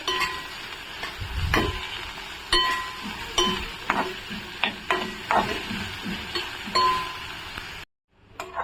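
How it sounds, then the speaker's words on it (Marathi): Finely chopped onion sautéing in oil, stirred with a spatula that clinks and scrapes against the pan in repeated sharp strokes over a soft steady sizzle, close and moderately quiet, ending in a brief silence. "आपण हा कांदा बारीक चिरलेला तेलामध्ये परतवून घेणार आहोत।"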